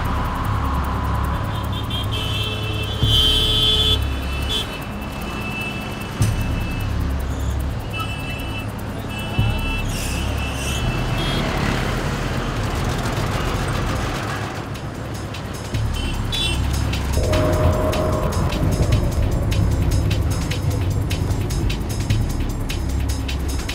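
A car being driven, its steady engine rumble and road noise running continuously under faint background sounds and occasional voices for the whole stretch.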